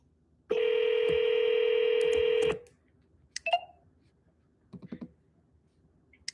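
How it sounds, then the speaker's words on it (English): A phone speed-dials a contractor: a loud two-second touch-tone beep, then a few soft clicks and taps from handling the phone, heard close with no talking. "I'm just speed dialing contractors right now."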